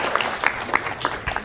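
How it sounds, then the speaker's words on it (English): A lecture-hall audience gives a short round of applause for a volunteer at a physics demonstration, a brief burst of clapping from many hands that fades quickly. "Let's give our demo person a nice round of applause."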